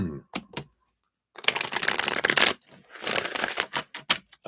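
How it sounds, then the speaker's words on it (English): Tarot cards are shuffled by hand in quick riffling bursts, with a couple of short taps and a pause before two longer flurries, close and fairly loud. "Let me shuffle these up."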